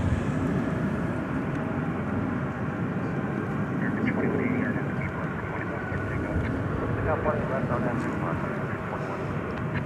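Frontier Airlines jet arriving from Denver at DFW Airport at night, a steady broadband engine rumble held at a constant level, with a voice talking over it.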